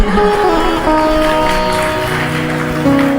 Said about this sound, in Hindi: इधर से एक भी ताली नहीं आई, सारी इधर से आई है